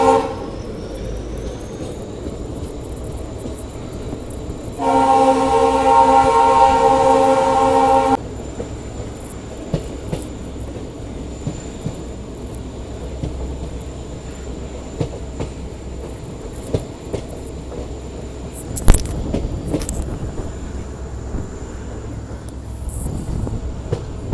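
A train on the KSR Bengaluru to Hosapete line rumbles past close by and sounds a loud horn for a few seconds, then goes on with clicking wheels and scattered clatter.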